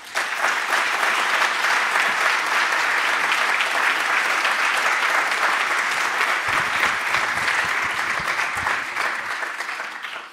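Sustained applause from a large indoor audience welcoming a speaker to the stage, dense and loud clapping for about ten seconds that fades slightly toward the end.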